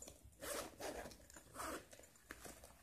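Zipper on a small camera bag for a Canon M50 being opened, three drawn-out rasping pulls in close succession, close and clear with no talking.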